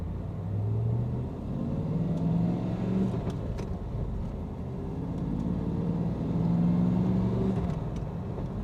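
A 1997 Pontiac Firebird Firehawk with an LT4 V8 pulls away from a stop, its low engine rumble steadily rising through the gears with no talking over it.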